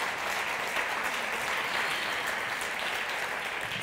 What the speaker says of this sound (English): Round of applause for these two women